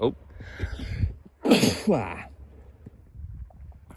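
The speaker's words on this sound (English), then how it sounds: "first sneeze on stream" A single loud, close sneeze bursts out mid-clip, preceded by a sharp inhale and surrounded by some muffled talking.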